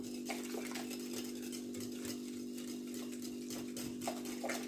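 Thin, liquidy scraping of a spoon or whisk stirring milk into Tunisian youyou dough in a bowl, steady and continuous with a few sharper clinks, over a constant low hum.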